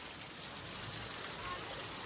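Steady rain falls at night on Friday, around ten o'clock, a dense even hiss that holds unbroken and fairly soft throughout with no pauses.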